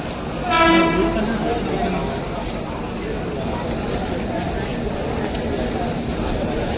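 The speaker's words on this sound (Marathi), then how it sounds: "आता विरार स्टेशनला आलो आहे मी" A local train at Virar station in Mumbai: a loud horn blast near the start, then a steady rumble of station and train noise carrying through the rest of the clip.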